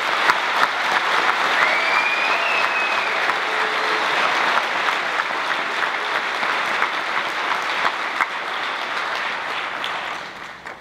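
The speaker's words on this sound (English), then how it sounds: "Join me in a round of applause for the staff and the volunteers." Full, sustained audience applause at a film festival closing ceremony, a steady dense wash of clapping from a large crowd that carries on for about ten seconds before tapering at the end.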